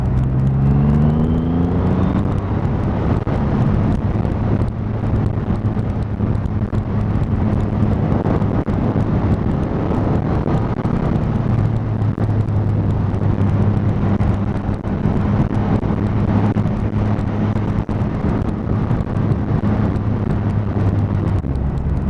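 A 2020 Triumph Rocket 3 R motorcycle engine pulls in third gear with a deep, steady drone that rises slightly in pitch, heard at close range under heavy wind rush.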